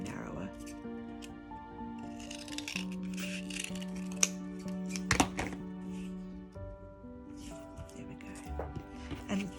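Scissors snip through card while a Christmas card is being made at a workshop, giving a few quiet, crisp cuts and a soft thunk under steady background music.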